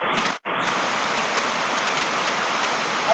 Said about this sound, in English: I can't hear you because of the rain